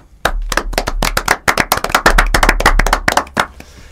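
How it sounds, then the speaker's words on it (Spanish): A small audience at a short-story contest award ceremony claps, the sharp individual hand claps distinct and uneven, starting abruptly and fading after a few seconds rather than merging into a dense roar. "¿A quién vamos a aplaudir ahora?"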